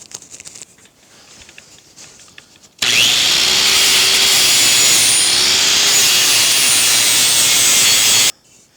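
Steel being cut to remove slag from its edge while building a blacksmith guillotine: a loud, steady, harsh cutting roar starts abruptly after a quiet stretch, runs unbroken for about five seconds, then stops sharply.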